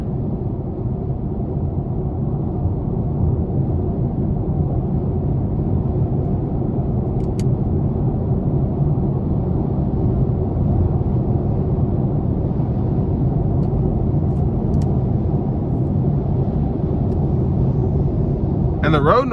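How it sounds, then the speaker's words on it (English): Steady low road rumble fills the cabin of a 2021 Chevy Spark with a 1.4 liter engine cruising on the interstate, an even drone with no speech over it. "the road noise is actually not as bad as I would expect from a car that you can get brand new for 17, 18 grand"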